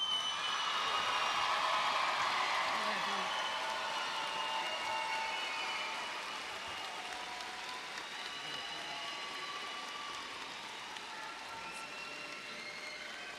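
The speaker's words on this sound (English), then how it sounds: "please give Devon a round of applause" An audience at the Russell County High School graduation gives a round of applause, heard faint and distant as a soft wash of clapping that gradually fades toward the end.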